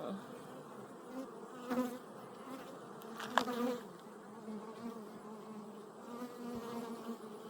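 Honey bees swarm over an open beehive as workers rebuild comb and fill it with nectar, a soft, continuous buzzing drone with occasional closer bees passing by, fairly faint overall.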